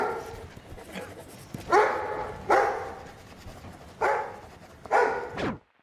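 Dogmeat, the dog from Fallout, gives four loud, sharp barks spaced about a second apart, each with a bright ringing tail, close by and with no talking.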